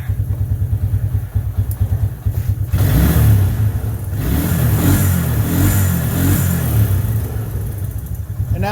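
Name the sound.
Suzuki Quad Runner 250 engine revving at full throttle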